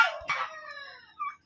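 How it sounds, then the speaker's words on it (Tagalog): A short rooster-like crow and a second squawk ring out among poultry at a market with turkeys, geese and native chickens. The calls are close and loud, and a softer call follows. "Ang daming pabo, may gansa, may manok."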